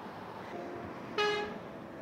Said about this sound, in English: People are honking at how cute you are.